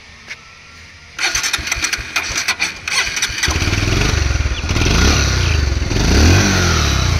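A used 2019 Bajaj Pulsar 150 cc single-disc motorcycle cranks with a rattling starter, catches, and settles into a loud, close, steady single-cylinder idle with a throbbing low rumble and some light revving.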